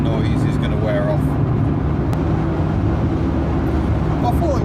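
A Rover 45 car cruising on the road gives a steady, low engine drone and road rumble from inside the cabin, constant and moderately loud throughout.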